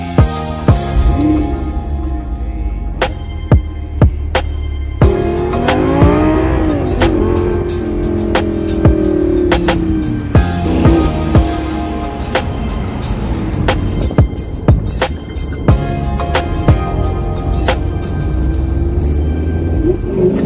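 Ferrari 458 driven hard, a loud engine note repeatedly rising and falling through revs, with sharp clicks and knocks throughout and brief quieter moments between bursts of acceleration.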